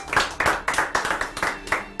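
An audience at a Father's Day event claps for all fathers, a brisk run of close, rhythmic claps lasting about two seconds.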